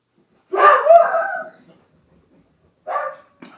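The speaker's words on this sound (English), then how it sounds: "Dogs are going crazy." Dogs bark nearby in a loud, drawn-out burst, then go quiet before one or two shorter barks follow.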